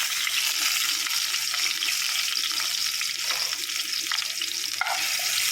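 Crushed ginger and garlic fry loudly in a chicken curry made with jackfruit seeds, giving a dense, continuous sizzle. Occasional stirring scrapes break through it.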